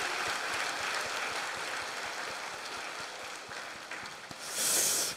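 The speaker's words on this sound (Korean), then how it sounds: "박수 한번 주시겠습니다." A church congregation applauds during a worship service, a steady wash of many hands clapping at moderate distance that continues for several seconds and swells briefly near the end.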